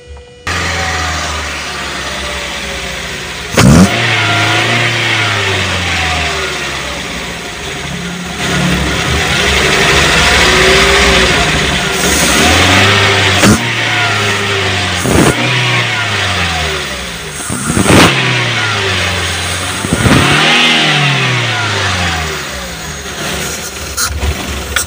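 A Daihatsu Gran Max van engine with a freshly cleaned throttle body starts and runs steadily, with a loud close-up engine note and several sharp revs rising and falling throughout.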